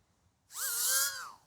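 An FPV drone fitted with a DJI O4 Lite whines past at close range, its high buzzing pitch swelling and shifting for about a second before dropping away.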